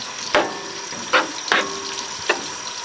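Sticky meat is stirred in a hot pot, giving four distinct scraping, sizzling strokes spaced roughly evenly over a low background hiss, close and fairly loud, with no talking.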